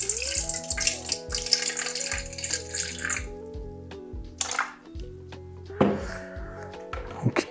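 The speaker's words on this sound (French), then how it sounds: "Donc tu mets la moitié en eau, une eau tiède." Lukewarm water pours into flour for pizza dough in a short splashing stream, close and moderately quiet, over a steady musical background.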